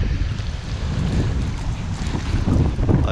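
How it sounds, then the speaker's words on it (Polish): Steady wind blows hard across the microphone in Paris, a constant rushing roar that builds slightly toward the end. "przynajmniej wieje wiatr"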